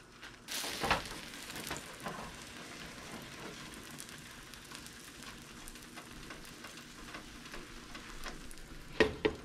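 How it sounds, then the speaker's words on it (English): Bitter melon omelette cooking in a pan, a faint, even sizzle and crackle throughout, with a few louder knocks at the start and near the end. "let it cook on one side for about 2-3 minutes, and then flip it over to the other side"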